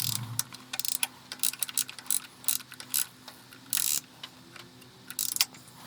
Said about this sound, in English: We just need to tighten up the top bolt and we're done.